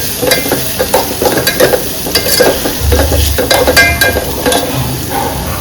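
Cabbage and capsicum rice is stirred in a hot pan, a loud, close sizzle broken by repeated scraping, tossing strokes of the spoon against the pan, with no talking.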